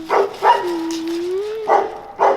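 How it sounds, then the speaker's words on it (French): Pijou, an old dog at an SPA animal shelter, barks four times in close, loud bursts, with a long whining tone drawn out between the second and third barks. "C'est un vieux chien, Pijou."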